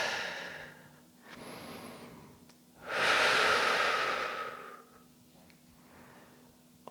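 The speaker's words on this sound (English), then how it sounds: "Couple of big breaths as you hold this." Deep breathing during a Pilates lunge stretch: a soft inhale, then a long loud exhale close to the microphone, followed by quieter breath sounds.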